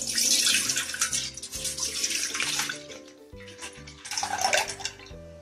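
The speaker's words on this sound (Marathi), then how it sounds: "आता दूध आपण गंजात घालू" A 1.5-litre batch of full cream milk pours steadily into a metal cooking pot for paneer malai laddu, a continuous close splashing gush that briefly eases around the middle before surging again, with soft background music and no talking.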